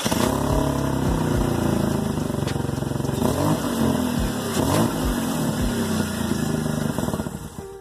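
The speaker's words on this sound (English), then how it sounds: "I can hear the exhaust leaking pretty good now all of a sudden." A running BMW E46 engine with an exhaust leak rumbles close by with a rough, uneven puttering, pulsing irregularly and swelling now and then before easing off at the end.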